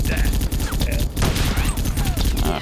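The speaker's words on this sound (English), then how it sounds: "And it shoots out a big old stream of bullets." Rapid automatic gunfire streams out in the first-person shooter Bet on Soldier, a dense continuous burst of shots layered with game effects, with a voice talking faintly underneath.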